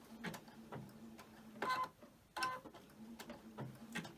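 An embroidery machine stitches an applique quilt block, giving quiet rhythmic mechanical ticking and whirring bursts in a steady, repeating pattern.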